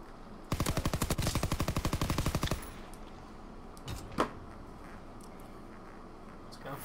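A rapid burst of automatic gunfire in a shooter video game lasts about two seconds, followed by quieter clatter and a few thuds.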